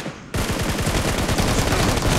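Rapid automatic gunfire in the battle game PUBG, a sudden, loud, sustained burst of fast regular shots with no voices.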